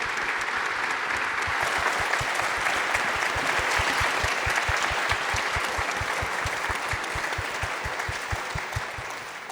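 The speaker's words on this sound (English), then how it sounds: "please join me in giving a round of applause to a fantastic panel" An audience at a civic health symposium panel discussion gives a steady, sustained round of applause that fills the whole stretch at an even loudness and fades slightly near the end, with no voices over it.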